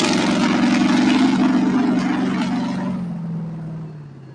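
A race car's engine roars loudly at a racing event, as a broad, steady blast that gradually fades as the car moves away.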